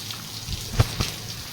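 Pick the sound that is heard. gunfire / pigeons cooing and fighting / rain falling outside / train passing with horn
rain falling outside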